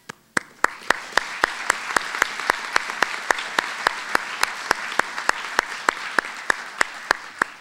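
Commencement audience at a Berkeley Columbia Executive MBA ceremony breaks into steady, sustained applause, a dense wash of clapping that fills the hall with a few sharper individual claps standing out throughout.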